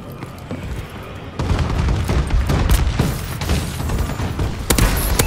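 Friendly bombing run in the video game Call of Duty Advanced Warfare, sounding as a dense rolling barrage of booms and rapid gunfire bursts that swells loud after a quieter opening and keeps pounding.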